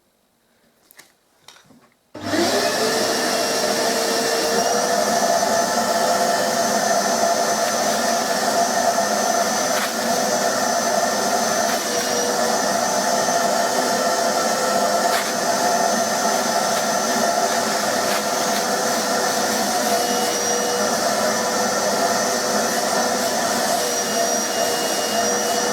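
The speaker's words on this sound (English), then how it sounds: "if you have a wet vac, then get your wet vac" A wet vac roars into life and holds a loud, steady whine while vacuuming carpet, running close and unbroken for more than twenty seconds after a few brief knocks.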